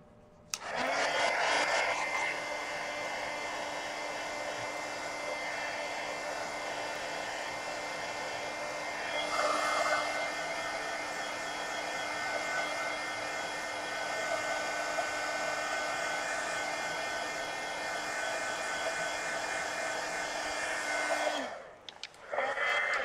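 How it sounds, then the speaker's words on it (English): A heat gun blows hot air to dry red paint on a mixed-media Halloween animal piece, a steady whirring roar running for about twenty seconds close by before shutting off. "So let me hit that with the heat gun."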